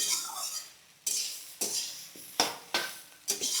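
Spices for a Bengali hilsa head curry being stirred in a pan, a utensil scraping and clinking against the metal in about six distinct strokes, each followed by a soft sizzling hiss fading between strokes, close and moderately loud.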